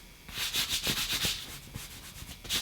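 A T-shirt with a stiff light transfer paper print rustles close by as it is moved, giving a quick run of crisp, papery rubbing bursts with no talking.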